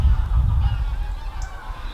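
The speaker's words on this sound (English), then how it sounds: "See this flock of geese landing in front of me." A flock of geese honks while coming in to land, a dense, continuous chorus of calls at moderate distance with no talking over it.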